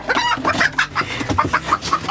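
Startled chickens clucking in quick, agitated bursts during egg collection from nesting boxes, several birds close by with a steady rhythm of sharp calls and no talking.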